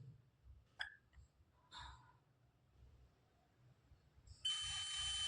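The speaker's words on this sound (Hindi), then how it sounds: "मल्टीमीटर की दोनों लीड इस कॉइल में लगाने पर आपको बीप की आवाज़ मिलेगी" A multimeter tests an inductor coil: after a few faint handling clicks in near silence, a steady, shrill continuity beep starts near the end and holds.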